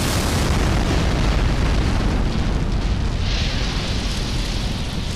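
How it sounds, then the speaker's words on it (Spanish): A massive gunpowder explosion inside the Parthenon, staged as a documentary effect, roars as a loud, dense, rumbling blast that sustains and slowly fades into a hissing debris tail. "Un disparo atravesó el techo y prendió la pólvora."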